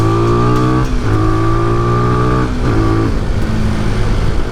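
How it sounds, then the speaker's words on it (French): A SWM Ace of Spades 125 motorcycle gives a hoarse, raspy exhaust note close by, rising in pitch through a few gear pulls with brief dips between shifts, loud and steady with no voices. "Un petit son rauque en sonorité d'échappement."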